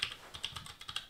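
Rapid typing on a THEA500 Mini keyboard for an Amiga setup, a quick irregular run of close, crisp key clicks with no voices.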